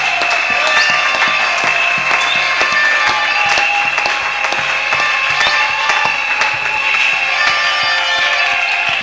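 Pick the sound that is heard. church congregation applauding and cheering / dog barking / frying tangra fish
church congregation applauding and cheering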